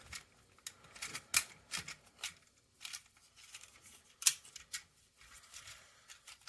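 A plastic Transformers Generations Legacy Velocitron Speedia 500 Galaxy Shuttle toy is folded and clicked into shuttle mode: irregular sharp plastic clicks and snaps with soft handling rustle between them, close and quiet, no talking.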